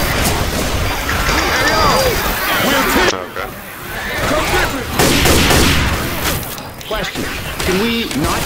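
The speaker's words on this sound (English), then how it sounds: "Can we not shoot each other?" Rapid gunfire from Left 4 Dead 2 crackles in dense bursts through most of the stretch, with a brief lull near the middle, mixed with game crashes and constant overlapping player chatter.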